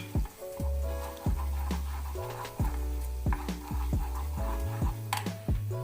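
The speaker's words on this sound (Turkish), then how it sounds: "Güzelce hafif kokusu çıkana kadar dediğimiz tabirle unumuzu kavuruyoruz" Flour is toasted in a pot for red lentil soup, stirred with repeated scraping strokes in an uneven rhythm. A low sizzling hum runs underneath throughout, close and moderately loud.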